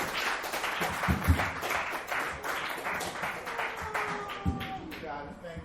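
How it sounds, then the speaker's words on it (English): A comedy show audience at a dive bar applauds a comedian, steady dense clapping with scattered sharper claps, some voices mixed in beneath. "Another round of applause for Jason Delgado."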